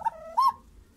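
Sivas doves cooing close by, two short soft coos in quick succession, the second slightly longer, against a quiet background with no talking.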